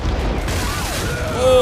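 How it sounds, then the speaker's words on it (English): Cannon fire from ships in the TV series Black Sails booms and rumbles as a dense fusillade of heavy blasts under swelling score, while viewers talk excitedly over it. "the cannon"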